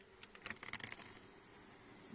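Soft, steady buzzing of honeybees fills the air at an apiary, with a few brief louder buzzes as bees pass close early on.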